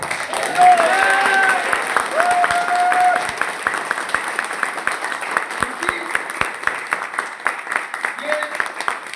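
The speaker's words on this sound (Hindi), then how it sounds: "एक बार आप लोग फिर से एक जोरदार क्लैपिंग करके बताइए कि हम तैयार" An audience at a leaders' summit in Manali claps loudly, sustained dense applause that gradually thins into scattered claps, with a voice speaking over it near the start.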